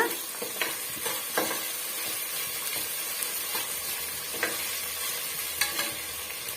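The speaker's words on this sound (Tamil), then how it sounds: "இந்த வெங்காயம் முழுமையாக வதங்கி வரட்டும் பாருங்க" Onions with ginger-garlic paste sauté in a pan for a banana-flower gravy, making a dense, continuous sizzle. Rhythmic spoon scrapes and stirs sound up close throughout.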